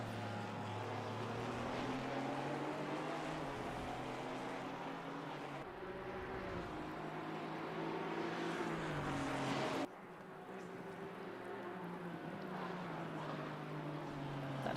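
Maserati race car engines in the video game Assetto Corsa Competizione roar continuously during an endurance race, rising and falling in pitch as they rev through gears, loud and sustained with brief shifts.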